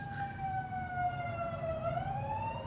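An ambulance siren wails steadily, its tone slowly sliding downward as it passes by, fairly clear over low background rumble.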